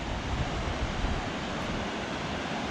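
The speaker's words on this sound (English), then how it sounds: "Now the wind's blowing" Wind gusting across the microphone on a mountain trail along the North Fork Skokomish River in the Olympics, a loud continuous broadband roar with low rumbling buffets throughout, no voices.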